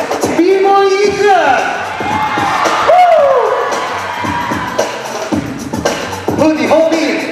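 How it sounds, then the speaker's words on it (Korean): A crowd at a dance concert, where Oshare Crew performs at Just Dance's 5th show, cheers and whoops loudly with rising shouts. An amplified voice calls out over the noise in bursts. "박수! 멋있는 동작이 나올 때마다 박수!"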